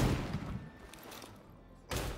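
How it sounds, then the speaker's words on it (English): A gunshot in the video game Ruined King, heard as a heavy close thump with a broad burst, a quieter stretch, then a second loud impact near the end. "he took a gunshot straight in the face"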